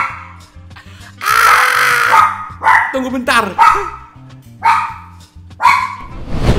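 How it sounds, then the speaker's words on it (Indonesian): Dogs at home bark and yip repeatedly in loud, overlapping bursts, one of them named Mochi, while thunder rumbles outside; someone talks briefly between the barks. "anjing gua pada gonggong semua."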